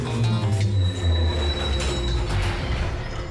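A cartoon train in the animated series Slugterra rumbles along with wheels squealing, a continuous loud grinding and a high metallic whine running throughout.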